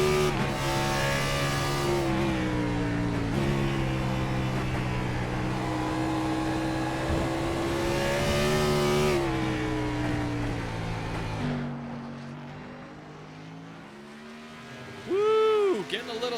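A race car in a racing video game at Watkins Glen slides sideways out of a turn, its engine droning loud and steady with shifting pitch. The note drops and fades near the end while a commentator talks over it.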